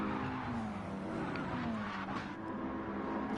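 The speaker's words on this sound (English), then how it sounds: "over the grass goes the Mercedes once again" A race car slides across the grass in Gran Turismo 7 during a Gr.4 online race in Japan, with tire skidding and engine tone over other cars, heard faintly throughout.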